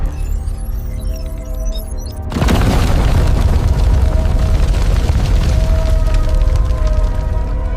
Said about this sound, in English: A single explosion crippled their spacecraft, stranding them in the void.